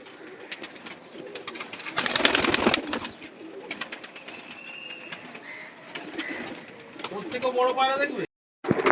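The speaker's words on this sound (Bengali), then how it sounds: "একটা পায়রা দেখেন বন্ধুরা" Black-spotted pure Kanpur pigeon coos close by in low rolling calls, with other bird sounds, a burst of fluttering, and a short dropout near the end.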